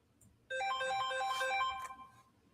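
A phone ringtone plays a bright, melodic electronic chime for about a second and a half, clear and fairly close, then cuts off, with no talking.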